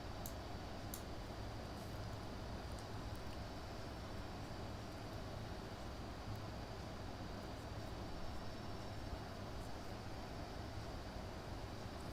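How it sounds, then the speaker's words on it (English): Cockpit engine noise of a Bombardier CRJ200 regional jet in the X-Plane 11 flight simulator, a steady, broadband droning rumble with a faint high whine, constant throughout at low volume. "This plane is quite loud here."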